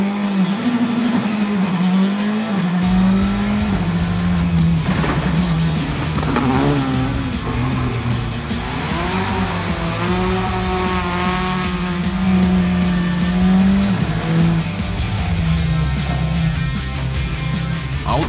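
A Skoda Fabia R5 rally car launches from the start line, its engine revving hard and loud with rising and falling pitch as it accelerates through gears, heard close and continuous.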